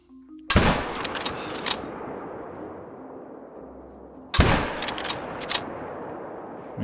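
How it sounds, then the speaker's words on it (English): Two loud rifle shots in theHunter: Call of the Wild on an African savanna hunt, each a sharp crack followed by a long rolling echo that fades over a few seconds. "we got lucky and the shot hit"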